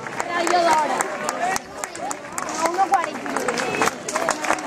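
A crowd applauding the podium finishers at a 10K race prize ceremony, a burst of clapping and cheering that dips briefly and then picks up again, fairly close, with voices and chatter mixed in.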